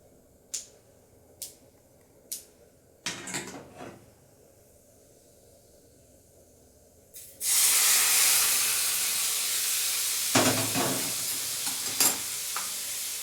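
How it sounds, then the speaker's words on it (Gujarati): Curry leaves dropped into hot tempering oil for a tomato chutney burst into a loud, steady sizzle and spatter after a few soft clicks, holding strong and close until the end. "મીઠા લીમડાના પાન એડ કરીશું"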